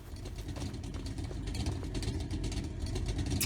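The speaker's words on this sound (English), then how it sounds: "I do like this truck, but I do not like the diesel engine sound that was put in there." A modded truck's diesel engine in Farming Simulator 25 runs with a low, steady rumbling drone, close and continuous, rising slightly in loudness toward the end.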